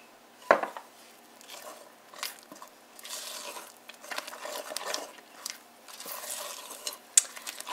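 Organic vanilla extract is mixed into a zucchini avocado chocolate cake batter. A sharp knock comes first, then soft scraping and stirring strokes continue quietly, with a brief clink near the end.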